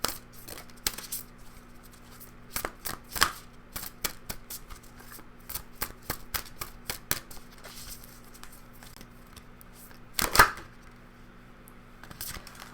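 Shamanic medicine cards being shuffled and handled on a table: light papery flicks, taps and riffles come in scattered bursts, with a stronger flurry near the end, all close and fairly quiet with no talking.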